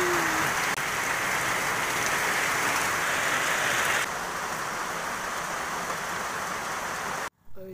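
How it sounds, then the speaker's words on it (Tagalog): Heavy rain pours steadily, a dense hiss of drops pounding a surface that lasts almost the whole time before cutting off abruptly near the end, with a brief voice right after. "Lakas pa naman ng ulan"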